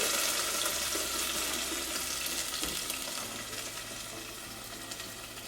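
Green pozole sauce simmers in a small pot with vegetable oil, giving a steady, close hiss and gentle bubbling that fades slightly over time.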